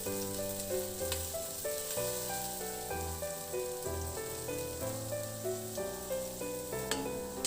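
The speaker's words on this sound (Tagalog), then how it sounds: "Nilagay ko na rin yung sibuyas, ihalo lang din hanggang sa mag-translucent." Onions sautéing in a pan for a Filipino pork rib stew, a steady low sizzle and fry running the whole time beneath a loud layer of background music, with no talking.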